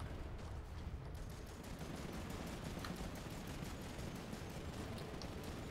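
Sustained war video game gunfire, a dense crackle of rapid shots and bursts running steadily throughout at moderate level, with no speech.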